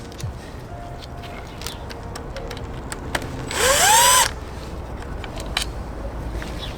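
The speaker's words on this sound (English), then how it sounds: "So we're gonna go ahead and start pulling all these bolts out." A power tool pulls bolts from a B20 engine being prepared for a Honda Del Sol, with one short, loud whirring burst of under a second amid faint clicks and handling noises.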